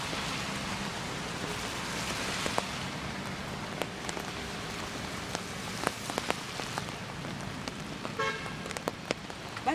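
Heavy rain pours down in a steady hiss with scattered drops striking surfaces, while traffic passes and occasional car horns toot nearby. No one speaks.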